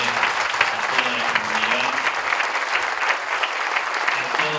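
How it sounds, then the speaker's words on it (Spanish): Congregation applauding steadily inside a parish church, a dense, continuous clapping that fills the room for several seconds with no pause or break. "Damos un fuerte aplauso al Padre Francisco, al Padre Miguel"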